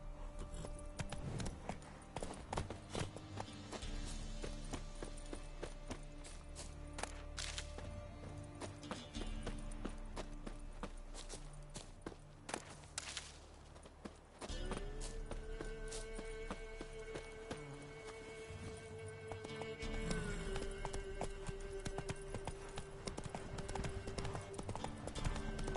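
Horse hooves in The Witcher 3 clip-clop in a brisk, steady rhythm throughout, close and clear, with a sustained tonal hum of game music beneath and a brief whinny-like sound.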